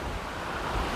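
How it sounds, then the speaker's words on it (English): Wind gusting through a garden channel beside a greenhouse, a broad, steady rushing roar buffeting the microphone, close and loud with no voices. "it's a bit of a wind channel through here"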